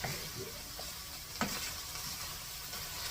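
Barbecue sauce is stirred into chicken in a pan, giving a quiet, continuous sizzle with a few soft scraping knocks of the utensil and no talking.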